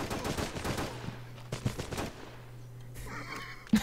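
Gunfire in the shooter game Terrorist Takedown: War in Colombia, with rapid automatic bursts at the start, then quieter ambience and a final loud shot or two.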